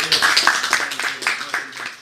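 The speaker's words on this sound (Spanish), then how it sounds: "Un aplauso para él" An audience applauds a guest in a dense, steady burst of many hands clapping, fairly loud and close, filling the short moment with little else beneath it.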